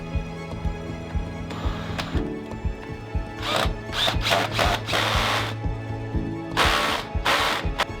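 Power drill driving screws to fasten down a workshop sander shelf, short whirring bursts repeating in close succession over a low background hum, loud and near with no talking.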